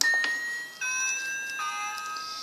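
A Playmobil toy house doorbell sounds an electronic chime, three descending tones in quick succession, clear and close with nothing else heard.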